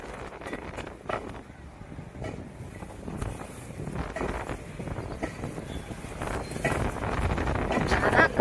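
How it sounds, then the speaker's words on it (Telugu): Strong wind gusts across an outdoor garden among fruit plants, buffeting the microphone with a rough, rising rumble that grows louder toward the end, with a faint voice now and then. "చాలా గాలి బాబోయ్"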